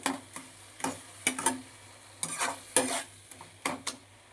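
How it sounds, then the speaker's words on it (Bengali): A spatula stirs pumpkin mash in a pan until dry, producing close, irregular scrapes and taps against the metal, in short bursts separated by brief pauses. "এবার আবারও একটু নেড়ে নিচ্ছি ভালো করে নেড়ে নিচ্ছি"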